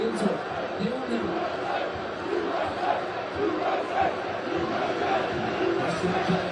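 A soccer crowd at a Washington, D.C. fan zone during USA vs Bosnia and Herzegovina roars and chants in a dense, continuous wash of voices with swells of shouting.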